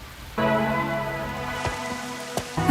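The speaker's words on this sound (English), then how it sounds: "More rain." Rain in the video game Master Detective Archives: Rain Code, heard as a steady wash that sets in abruptly beneath a sustained tonal musical drone, with a couple of sharp taps or drips near the end.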